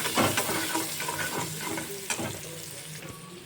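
Sliced onions sizzle and fry in a pan with a steady crackle while a utensil stirs them, scraping and clinking in a few distinct strokes, close and fairly loud with no talking.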